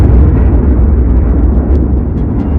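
A huge explosion sound effect depicting the birth of the sun, a deep, loud, sustained rumbling roar with heavy low-end that holds steady for over two seconds and never fades out.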